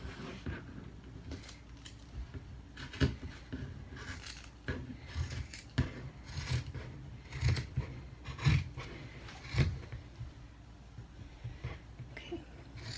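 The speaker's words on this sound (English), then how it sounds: "we might switch to the scissors actually. I think that'll go through" Scissors snip through several layers of thick fabric for a water sling, in close, irregular cuts, crisp crunching blade strokes separated by short pauses.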